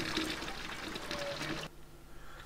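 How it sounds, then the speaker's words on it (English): A toilet flushes in a video game, a quiet rushing pour of water that cuts off abruptly partway through, leaving a faint low hum. "flush, I suspect."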